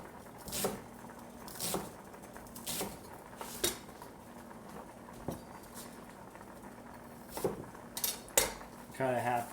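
A knife slicing vegetables on a board for a stir fry, sharp irregular chops and taps with clinks of kitchen utensils, heard close over a faint background hum.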